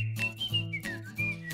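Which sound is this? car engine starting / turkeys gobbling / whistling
whistling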